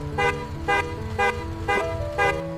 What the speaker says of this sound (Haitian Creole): M'tend donc klaxon Max get arrivé.